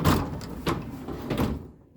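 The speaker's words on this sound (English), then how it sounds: "use the door by hand and make sure it's balanced" A garage door with freshly tensioned cables is pushed by hand, producing several rolling, rumbling scrapes in bursts that fade out near the end.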